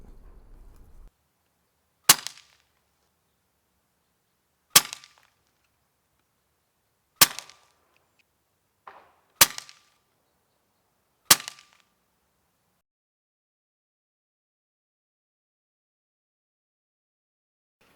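Umarex Notos Gen 2 air rifle firing Craftsman pellets at a 25-yard target, six sharp cracks spaced a few seconds apart, close and loud against near silence.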